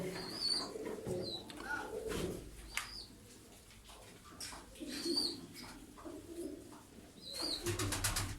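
Pigeons coo softly and repeatedly at close range, with a few brief chirps from other birds scattered between the calls.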